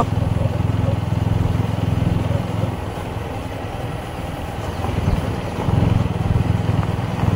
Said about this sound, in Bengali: এখন আমরা বাইকে করে যাচ্ছি সুদর্শনের বাড়ি